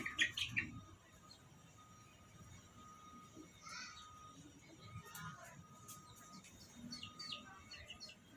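An injured chick chirps in faint, scattered high peeps, with a cluster of calls near the start and more later, under quiet background noise and some indistinct voices.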